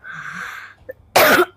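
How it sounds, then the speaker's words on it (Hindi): A person with a lingering cough lets out two sharp, loud coughs up close, the second one clipped short, following a brief breathy hum. "थोड़ी मुझे खांसी है काफ़ी दिनों से"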